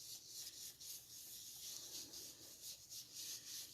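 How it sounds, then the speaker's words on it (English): A brush rubs ink off against a surface in quick, repeated scrubbing strokes, soft but close, with a steady rhythmic rasp and no talking. "I'm picking up some more ink, rubbing off"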